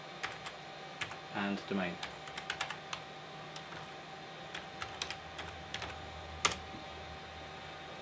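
Light, quick keystrokes on a computer keyboard enter a username and password for a thin client login, quiet and close, with a brief spoken phrase partway through.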